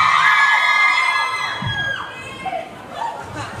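A live fan meet-up crowd cheering, whooping and shouting loudly at once, a burst of high-pitched voices that gradually fades into scattered yells and chatter.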